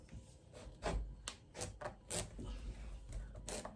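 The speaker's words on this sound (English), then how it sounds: "I thought the hacksaw would be easier" A hacksaw rasps through a large, slippery butternut squash in uneven, scraping strokes, fairly faint and close, with short bursts separated by brief pauses.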